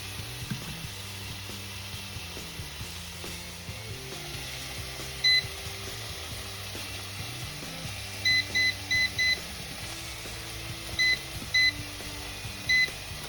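Short electronic beeps from an air fryer being set to 350 degrees for 15 minutes in a home kitchen, a single chirp then clustered runs of quick beeps over a low kitchen hum, no talking.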